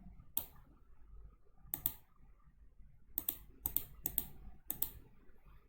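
A computer mouse clicks in a quiet room, with sharp, close clicks coming singly and in quick pairs at irregular intervals and no voices.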